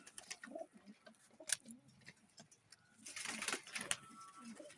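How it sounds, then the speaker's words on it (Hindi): A teddy pigeon cooing softly at close range, faint low murmuring coos with scattered clicks and rustles, then a brief burst of broadband noise toward the end. "ये टैडी कबूतर है माशाल्लाह बड़ा ही प्यारा।"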